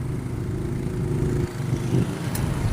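A steady motorcycle engine drones among idling vehicles in a traffic jam on the C5 road near Kaingin. The rumble is close, continuous and fairly loud, with no talking.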